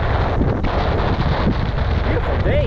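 Strong wind buffets the microphone throughout a coastal bike ride along sandy dunes by the ocean, a loud, steady rumbling roar with gusty swells and no pause.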